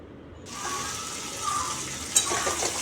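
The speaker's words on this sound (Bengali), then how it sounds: "আমি অল্প করে একটু জল দিয়ে দিলাম যাতে খুব ভালো করে কাঁকড়ার সঙ্গে মশলাটা আর আলুটা কষিয়ে নিতে পারি" Sea crab with potatoes and spice paste in a pan, a splash of water added, bursts into close, steady sizzling and bubbling, with a brief metallic clink near the end.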